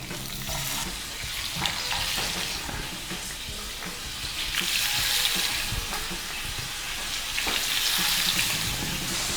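Water runs steadily from a tap with splashing and hissing as meat is rinsed underneath, rising and falling in intensity, no talking.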